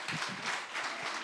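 An audience at a worship concert gives a brief burst of dense, steady clapping from many hands, heard up close with no pauses.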